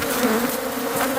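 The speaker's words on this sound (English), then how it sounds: "This is the most vicious hive we've seen for a while." Aggressive bees from a vicious hive at a gazebo keep up a loud, constant close buzz, a thick unbroken swarm drone heard alone.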